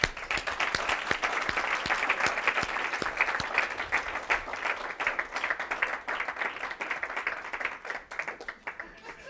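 An audience at an evening training session on relationship building gives a round of applause for Luis Avila, steady crisp clapping from many hands that carries for several seconds before gradually thinning toward the end.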